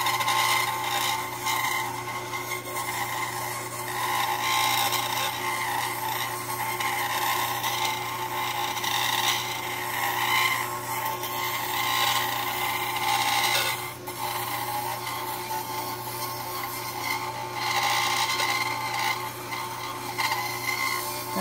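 A dental burr grinds acrylic on a denture in a continuous high-pitched rasping whir, with a steady motor hum beneath and small shifts in pressure throughout.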